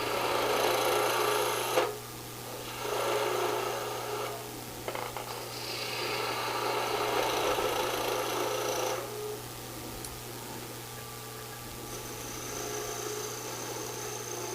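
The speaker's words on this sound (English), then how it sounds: "This is just a shear scrape, kind of a shear cut, kind of a shear scrape." Woodturning at a woodturners' club demonstration, a tool making a shear scrape across a spinning workpiece on a lathe, a steady raspy hiss in several long passes over a constant motor hum.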